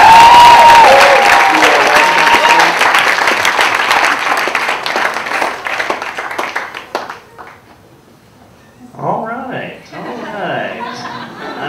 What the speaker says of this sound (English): give a big round of applause for Mark Norman